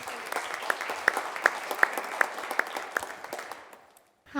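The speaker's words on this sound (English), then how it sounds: "please give a round of applause" An audience at a high school college signing gives a round of applause, scattered distinct claps over a light bed of clapping that gradually thins and stops, followed by a brief bump of sound.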